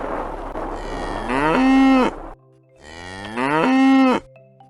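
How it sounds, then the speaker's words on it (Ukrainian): A cow moos twice, each a long, loud, low call that rises and holds, separated by a brief pause. "Так, це мукає корова."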